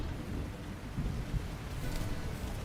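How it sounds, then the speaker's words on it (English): Steady rain pours down with a low rumble of thunder beneath it in the video game Lightyear Frontier, a constant wash of noise at moderate volume. "Man, that sounds like a thunderstorm."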